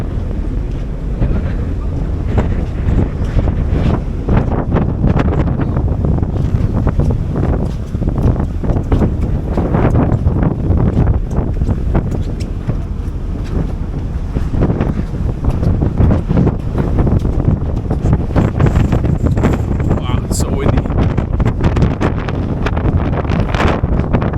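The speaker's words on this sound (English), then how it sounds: "I don't know if you can hear me over all the wind" Strong wind buffeting the microphone on the deck of a ferry-cruise ship sailing from Busan to Osaka, a loud, continuous roaring rumble with gusty surges throughout.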